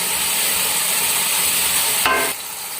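Garlic and ginger paste sizzling in hot oil for a village-style chicken curry, a steady loud frying hiss with stirring, briefly flaring louder near the end, no voices.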